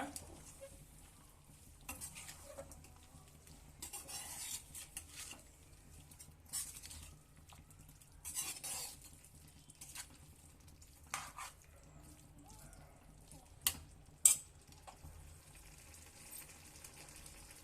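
A spoon scrapes and clinks intermittently through a chicken liver masala being mixed in a pan, quiet and close. Short stirring bursts are separated by near silence, and two sharper knocks come near the end.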